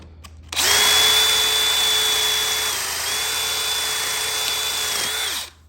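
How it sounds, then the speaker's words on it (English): A power drill whines steadily at high speed for about five seconds, close and loud, as a 5/16-inch bit drills out a golf cart suspension bushing, pitch dipping slightly as it bites, then spins down and stops. "So I took a 5/16 drill bit."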